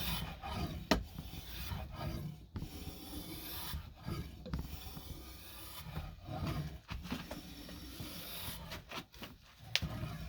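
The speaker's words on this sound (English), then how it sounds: "You can shape it a little bit more with the spoke shave." A spokeshave rasps along a wooden Plumb axe handle in repeated scraping strokes, each a rough, close, moderately loud pass separated by brief gaps, with no talking.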